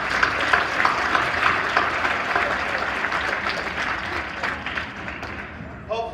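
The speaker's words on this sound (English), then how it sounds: "Let's give them all another round of applause." Applause from an audience at a Women in STEM event fills the clip, a dense steady clatter of many hands clapping that holds loud throughout and thins slightly near the end.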